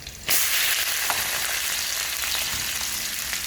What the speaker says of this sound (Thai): เจียวหอมหรือเจียวกระเทียม เจียวกระเทียมจ้ะ